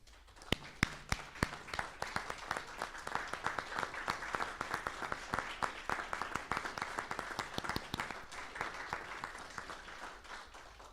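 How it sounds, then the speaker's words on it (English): A room at a Rock Hill Schools board meeting breaks into applause, with dense, moderately loud hand clapping that holds steady for about eleven seconds. No one speaks over it. "let's give him a round of applause."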